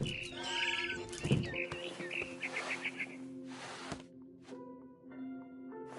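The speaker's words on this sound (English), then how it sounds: "Then I heard chirping outside my window. It was a barn swallow going back to her nest." Barn swallow chirping in the video game What Remains of Edith Finch, with repeated high tweets over a steady ambient hum and other game sounds, fairly faint and continuous.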